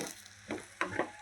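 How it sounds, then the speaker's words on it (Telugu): A ladle stirs fish curry as it fries in a pan, with soft scraping strokes over a low sizzle, quiet and close, and no talking. "మనం ఇది పద్దాక తిప్పుకుంటానే ఉండాలండి, ఎందుకంటే ఊరినే అడుగంటుంది."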